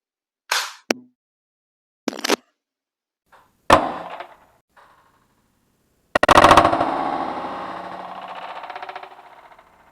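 An Umarex HDR 68 gas revolver firing at an 8mm-thick piece of wooden flooring about 13 feet away: three sharp, separate cracks spaced over a few seconds, then a louder burst that trails into a lingering rattling noise, with no voices.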